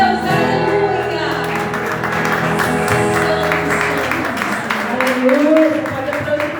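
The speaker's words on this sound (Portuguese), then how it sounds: "Pode aplaudir mais forte." A church congregation applauds under music, with sustained instrumental tones and a voice speaking over the continuous clapping, loud and close.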